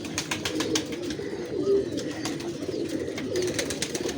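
Sajji pigeon cooing at a breeding loft, with soft repeated coos rising over a steady background of other birds' murmuring and chirps, close and moderately loud with no talk.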